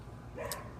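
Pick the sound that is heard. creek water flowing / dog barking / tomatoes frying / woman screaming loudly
dog barking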